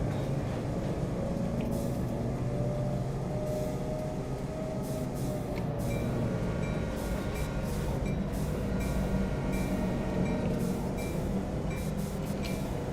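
A Canadian National diesel train with four tank carriages rolls through the Oakville Subdivision in Train Sim World 3, giving a steady close engine rumble under continuous wheel and rail noise, with brief higher clicks and squeals throughout.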